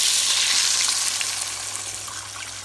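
Dark brown soy-based gravy with water boiling in a pot, giving a steady close bubbling and sizzling hiss throughout with no talk.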